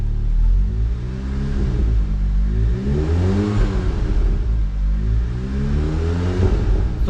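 A modified Mk7.5 Volkswagen Golf R Estate tuned to 420 bhp revs loudly from idle, its engine note rising and falling in several swelling blips over a steady rumbling drone.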